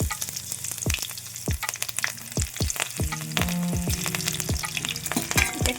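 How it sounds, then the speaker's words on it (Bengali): Cumin seeds frying in hot oil with green chili and a bay leaf, a steady close sizzle broken by crackling pops and spatula scrapes against the pan. "ভালো করে জিরেটা ভেজে নেব"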